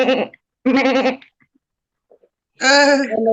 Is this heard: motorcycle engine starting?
no